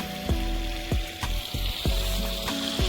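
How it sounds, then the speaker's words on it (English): Water rushes steadily through a drainage pipe set into a backyard dam, a constant near, loud hiss and gurgle with a few sharp knocks and splashes breaking through. "A lot of water flowing."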